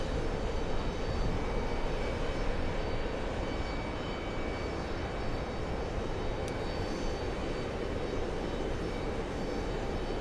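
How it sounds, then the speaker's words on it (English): A steady, broad roar from an Emirates airliner in special livery landing on a runway at JFK, heard from a distance as a continuous engine wash with no talking. "The Emirates Foundation landing in front of LA Flights"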